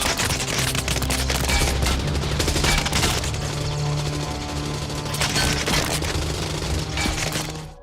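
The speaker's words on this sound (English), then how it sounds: "With all the barrage of bullets and explosions, action flicks can get pretty loud." Dense gunfire and crashing explosions from the action film Terminator 2 form a loud, continuous barrage of rapid shots and shattering impacts, with no clear speech.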